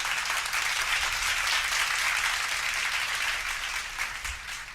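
Steady applause from a small audience on a talk show, a continuous dense patter of many hands clapping at even loudness before tapering slightly at the end, with no talk over it.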